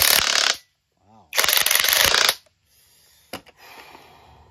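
A 20V cordless half-inch impact wrench on a 4Ah lithium-ion battery hammers in two loud, harsh bursts of about half a second and one second, with short pauses and faint voices in between.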